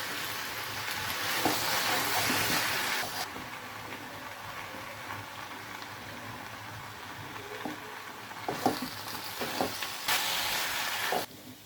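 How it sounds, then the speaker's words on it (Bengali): Mixed vegetables sizzle softly in a pan over low heat, with occasional scraping strokes of a spoon stirring them to keep the bottom from burning, the hiss rising and falling without any voices. "এবার একটু নেড়ে দিব।"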